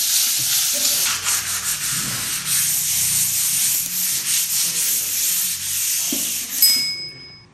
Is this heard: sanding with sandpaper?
yes